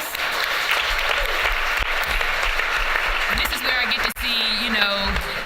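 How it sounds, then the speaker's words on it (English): Steady audience applause for a panel member at a juvenile justice summit, a broad continuous clapping wash with faint voices and tonal sounds briefly surfacing near the end. "Let's give him a round of applause."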